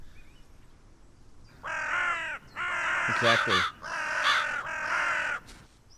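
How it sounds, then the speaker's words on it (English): Crows cawing in the video game Solarpunk, a series of four loud, harsh calls in quick bursts, with a brief spoken word nearby. "okay, there's already bird sounds."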